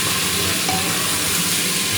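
Tomatoes sizzle loudly in a hot pan with spices such as cumin and coriander while being stirred for Nepali thukpa, a constant close frying hiss throughout.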